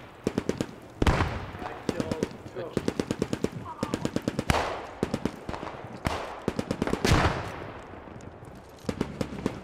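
Machine gun fire in the World War II shooter game Post Scriptum: loud, close, rapid bursts of automatic fire repeat in quick succession, with heavier single blasts between them and faint voices at times.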